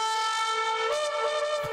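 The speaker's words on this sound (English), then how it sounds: "Yeah, like a gate slam or a war horn." A single deep, sustained war horn blast drones steadily and loudly for the whole moment, rich and brassy, with no talking.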